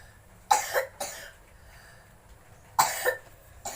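Two separate bouts of coughing, each a couple of harsh close coughs, with a quiet pause between them.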